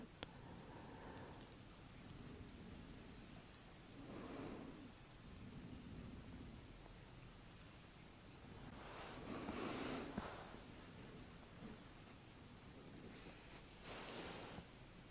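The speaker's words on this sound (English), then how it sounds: "I can hear a lot of rain outside on the bothy roof" Heavy rain drumming on the roof of a bothy, heard from indoors as a steady broad wash that swells in loud surges and eases again, with no voices.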